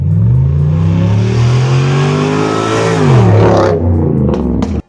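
A big-engined Cadillac Seville STS revs hard nearby, a strong, sustained engine roar whose pitch climbs, dips at a shift and climbs again, then cuts off abruptly with no talk.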